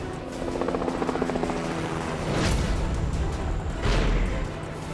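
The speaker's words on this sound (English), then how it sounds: "Then why the hell are we in a helicopter" Helicopter rotor noise drones steadily with a rhythmic chop, swelling with two loud whooshing passes near the middle and end.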